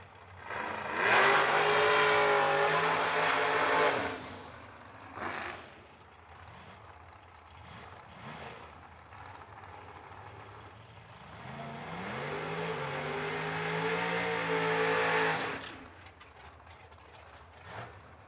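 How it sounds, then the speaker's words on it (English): At a drag strip, a dragster and a door car roar past in two loud engine passes, each rising then fading, with a quieter stretch of distant engine rumble between them. "Your next pair will see a dragster versus door car"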